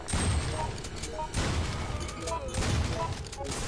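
Pistol gunshots in the video game Resident Evil Outbreak, a few loud sharp bursts in quick succession under a steady dense game background, with talk present in the mix.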